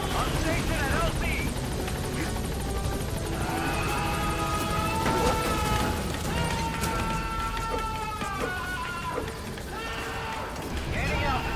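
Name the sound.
B-Quad helicopter arriving at landing zone, from video game Metal Gear Solid V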